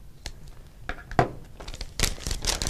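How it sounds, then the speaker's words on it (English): Scissors snip a small hole in a plastic decorating bag, giving a few brief, close crinkling and tearing rustles that grow busier toward the end. "I'm going to cut a small hole in my decorating bag"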